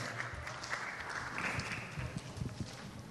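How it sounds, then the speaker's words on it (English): An audience at a women's conclave on the Indian Air Force claps steadily in a dense, continuous round of applause, heard from a distance and fairly quiet. "So a huge round of applause. Let the applause keep going."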